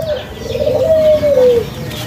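A single caged dove coos nearby in an Indonesian forest-edge village, a soft, drawn-out rolling call that rises and fades, with quiet background.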